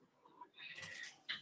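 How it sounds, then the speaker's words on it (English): A pet cat meows fussily somewhere in the room, a few faint, brief calls set well back behind a quiet indoor background. "Excuse my cat in the background if you can hear him."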